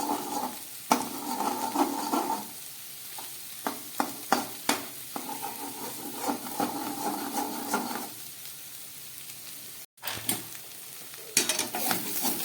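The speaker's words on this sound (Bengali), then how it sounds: "সবজিগুলো অনেকক্ষণ ধরে আমার ভাজা হয়ে গেল।" Vegetables fry in a pan over medium heat with a steady soft sizzle, broken by repeated scraping and clacking strokes of a spatula stirring. There is a short gap near the end, and no one speaks.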